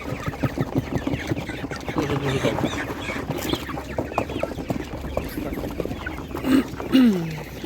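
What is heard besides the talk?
chickens clucking at a market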